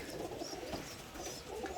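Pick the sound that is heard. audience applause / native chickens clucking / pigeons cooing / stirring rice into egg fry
pigeons cooing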